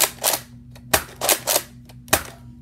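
Nerf Accustrike Raptorstrike toy blaster firing, with about five sharp, close snapping shots and clacks spaced unevenly over a faint electrical hum.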